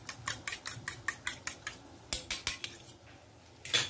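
Four eggs are beaten with a utensil against a bowl, a quick series of sharp clinking taps in steady rhythm, a brief pause, then a few more strokes.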